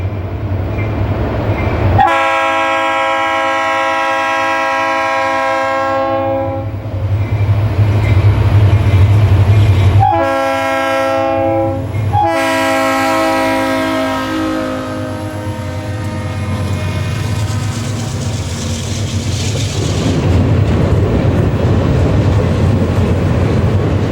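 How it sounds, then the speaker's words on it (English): A westbound Conrail freight train of 7 loads and 43 empty cars climbs the mountain grade from Allentown toward Pittsburgh. The air horn sounds loud and close in long blasts, broken by a brief pause, over a steady heavy rumble of engines and cars. "A westbound Allentown to Pittsburgh freight heads up the mountain, but will not require any help"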